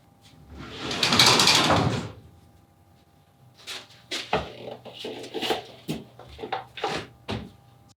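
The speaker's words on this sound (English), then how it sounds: "Just open the roller door and I'll put it outside." A roller door in a surfboard repair workshop rattles open in a loud burst of about a second, followed by scattered knocks and clunks as things are shifted nearby.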